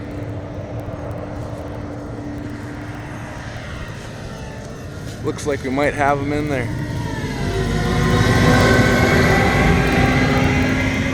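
A crop-sprayer plane's engine drones overhead above a field where pocket-gopher traps are being checked. It grows louder and fuller toward the end, with someone talking over it partway through.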